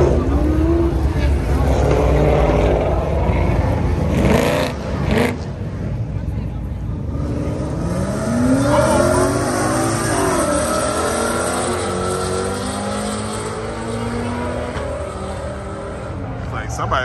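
Engines of a Mustang and a Ferrari roaring loudly as they launch and accelerate in a drag race at a motor speedway, with sustained revving and rising engine tones, a voice talking over parts of it.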